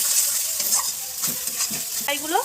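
Chana paneer masala sizzles in a frying pan while a spatula stirs it with a few quick scrapes and clinks, close up and fairly loud over the continuous hiss.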